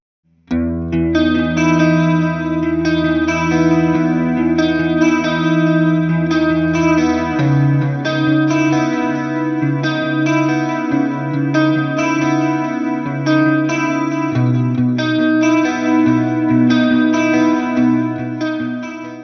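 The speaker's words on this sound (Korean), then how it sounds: "메인 드라이브와 코러스 그리고 딜레이 페달을 믹스해서 들어볼게요" Electric guitar played through a Fender Tone Master Pro with a main drive, chorus and delay pedals mixed, ringing loud and close in strummed chords and picked notes with shimmering modulation and echo trails, unbroken for nearly twenty seconds.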